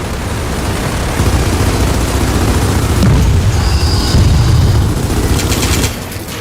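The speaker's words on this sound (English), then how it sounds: "now we shoot the core!" Shooting the core in a Gears of War video game: loud, continuous rapid gunfire mixed with heavy booms and rumbling impacts for several seconds, with no speech.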